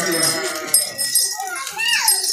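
Tall Sojat goats bleat on a farm, with wavering, nasal calls close to the listener that overlap one another in a brief, busy burst.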